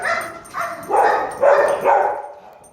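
A dog barks and whines in a short series of four or five close, fairly loud yelping calls, each rising and falling, with no talk over them.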